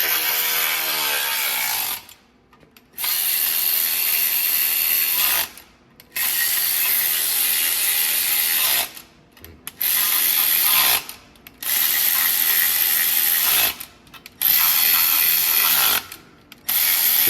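A ratcheting torque wrench clicks rapidly while tightening bolts to 10 foot-pounds, in long continuous bursts up close, broken by short pauses between strokes.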